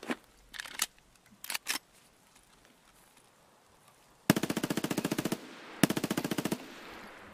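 A Kedr submachine gun fires in Escape from Tarkov, with two rapid full-auto bursts of about a second each, loud and close, after a few scattered shorter shots and clicks.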